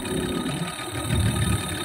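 A Yamaha 15 hp outboard motor running steadily after repair, a close, loud, continuous mechanical drone with a slight rise in intensity partway through and no talking.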